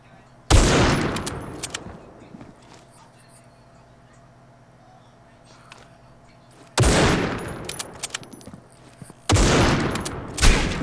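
Gunfire in a video game bursts out in three loud, close volleys of rapid shots separated by quieter stretches of low background noise.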